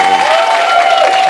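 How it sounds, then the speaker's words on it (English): A studio audience on a Big Brother UK spin-off show claps in a brief, loud burst of applause, with a sustained tone running under it. "I've got to give her a round of applause"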